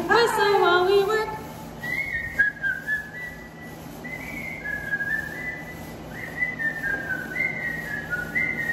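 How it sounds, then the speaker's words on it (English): A person whistles a melodic tune in a quiet indoor craft-room setting, moderately loud phrases rising and falling across the clip, with a brief voice near the start. "Whistle while we work."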